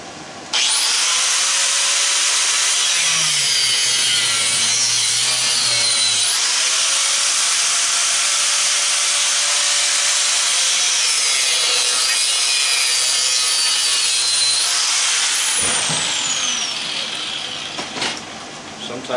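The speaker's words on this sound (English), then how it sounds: "So I'll step into the other room here and grab the Sawzall." A Sawzall reciprocating saw cuts steadily through a scrapped hot tub pump motor, a loud continuous buzzing rasp that runs for most of the stretch, then drops off near the end.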